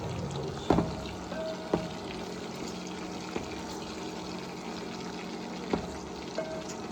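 Onions fry in a pan during biryani preparation, giving a quiet, steady sizzle with a few soft knocks where the mixture is stirred. No voices are heard.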